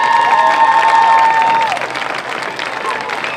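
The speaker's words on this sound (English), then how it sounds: "Let's have a big round of applause for our 2021 senior band members." Crowd applause and cheering at a Dalton High School football game senior night honoring the 2021 senior band members, a dense roar with whistles and shouts that fades somewhat midway but keeps going.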